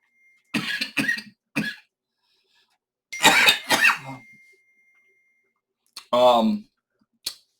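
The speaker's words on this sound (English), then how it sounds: "Excuse me for coughing." A person coughs several times in short bursts, close and fairly loud, with pauses between the fits and a brief throat sound near the end.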